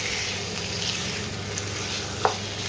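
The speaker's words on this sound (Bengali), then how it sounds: "এইবার এই মাংসটাকে ভালো করে কষাতে হবে।" Chicken sizzling in a hot pan while being stirred and cooked down with spices, a continuous close fry with faint scraping and one sharp clink.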